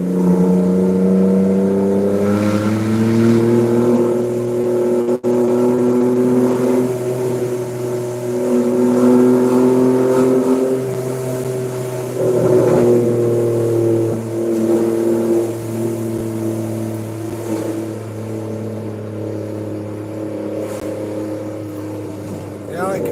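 A BMW with a straight pipe exhaust rumbles deep and throaty, steady, swelling slightly as the engine revs up and settles, loud and close throughout.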